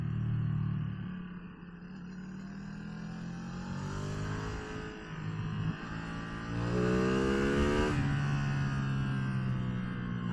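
Stock Ducati Streetfighter V2 motorcycle engine under way on mountain roads, a steady loud drone with rising revs and a strong throttle pull near the end, wind rush throughout.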